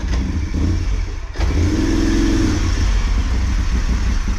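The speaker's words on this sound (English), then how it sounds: "the engine was running worse than ever" Moto Guzzi motorcycle engine running poorly, a close, steady low-pitched idle with clattery mechanical texture and a brief dip before picking back up, with no voices.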